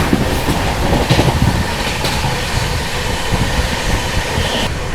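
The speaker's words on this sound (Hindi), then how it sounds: "अमृत भारत का लोकोमोटिव लेकर के जा रहा है अपनी नई दिल्ली प्रयागराज हमसफर एक्सप्रेस को, नॉन स्टॉप वाली" The New Delhi–Prayagraj Humsafar Express hauled by an Amrit Bharat locomotive, a continuous loud rumble and clatter of rail cars with rhythmic wheel clicks, heard close by.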